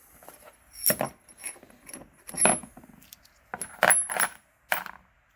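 Metal washers for a Ford Escort rear sway bar link are handled up close, giving a handful of sharp, bright metallic clinks and jingles scattered irregularly across a few seconds with quiet gaps between.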